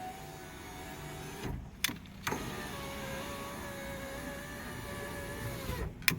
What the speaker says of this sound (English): make sure your window is moving up and down pretty smooth